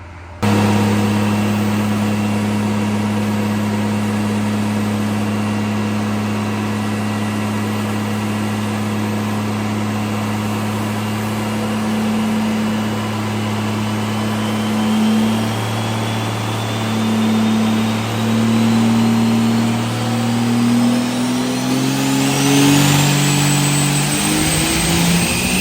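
A 1400hp 6.7 Cummins diesel truck engine on a dyno makes a loud, sustained droning roar that holds steady for about twenty seconds, then climbs in pitch near the end of the pull, with no talking.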